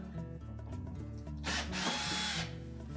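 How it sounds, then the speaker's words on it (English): A power drill or driver spins out screws at the rear of a Whirlpool range blower bracket, one loud, harsh whirring burst of about a second over a steady background hum. "we're simply going to remove 4 screws at the rear, leaving the brackets intact"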